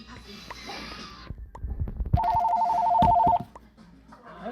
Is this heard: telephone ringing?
yes